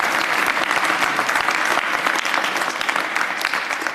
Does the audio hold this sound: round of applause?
yes